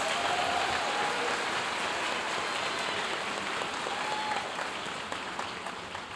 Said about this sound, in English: Let's give a big round of applause to these exceptional finalists